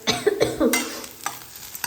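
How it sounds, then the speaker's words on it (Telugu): Tempering seeds, dried red chillies, green chillies, curry leaves and onion fry in a little oil in a pan, with a close, steady sizzle broken by repeated scraping stir strokes. "దాంట్లో ఒక పావు ఆయిల్ వేసేసి తాలింపు గింజలు, ఎండుమిర్చి, పచ్చిమిర్చి, కరివేపాకు, ఉల్లిగడ్డ"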